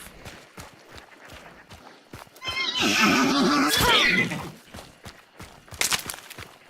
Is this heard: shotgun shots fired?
no